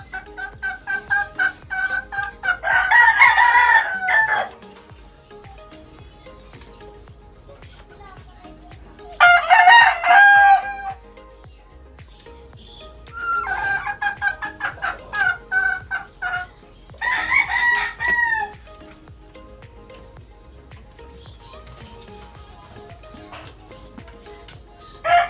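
A rooster crows loudly several times at intervals over steady farmyard background, with occasional clucking from chickens between the calls.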